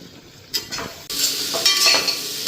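Chopped onions sizzle and fry in a pan while being stirred, with scraping stirs breaking through the steady hiss; the sizzle swells loudly after a brief quieter start, with no talking.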